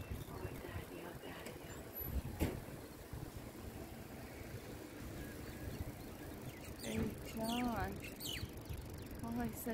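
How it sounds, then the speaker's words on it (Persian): Birds chirp at Marjan beach on Kish Island, a few short tweets and a brief warbling call standing out over a constant wash of sea and background noise. "صدای پرنده ها"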